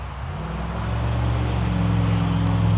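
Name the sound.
highway traffic background noise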